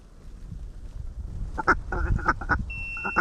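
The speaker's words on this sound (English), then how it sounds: "That's all mallards." Mallard ducks in a snowy Louisiana hunting spot give a burst of loud, nasal quacks in quick clusters after a quieter stretch of low rumbling background, with a thin tonal whistle near the end.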